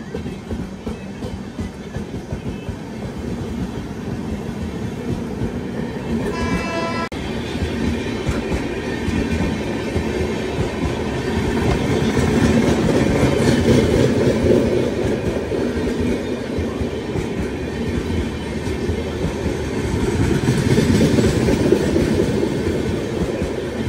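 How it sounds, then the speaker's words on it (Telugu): A passenger express train runs on the tracks with a continuous loud rumble and rhythmic clickety-clack of the wheels, steady for over twenty seconds with a few swells in volume. "సోర్స్ నుంచి డెస్టినేషన్ వరకు ఈ ట్రైన్లో ప్రయాణించాలబ్బా"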